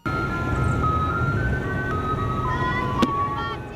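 An ice cream truck plays its tinkling melodic jingle continuously, a steady tune over low road rumble, with a brief sharp click near the end.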